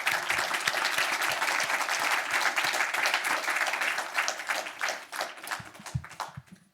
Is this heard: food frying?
no